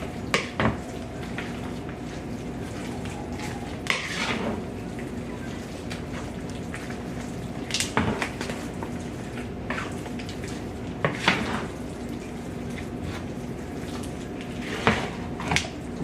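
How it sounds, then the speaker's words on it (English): Wooden spoon stirring food in a pot, with repeated scraping clatters and soft knocks against the pot at irregular intervals over a low steady background hum, no talk. "I'm going to get one of my wooden spoons over here. Just mix that up really good."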